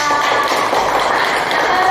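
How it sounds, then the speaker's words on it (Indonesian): Classroom clapping for a student during a high school lesson, a dense, close patter of hands that stays even and fairly loud through two seconds. "Terima kasih tepuk tangan untuk Citra"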